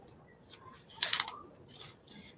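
Scissors snip through thin paper along a line in a few short, crisp cuts, one louder crunchy cut in the middle, close and fairly quiet.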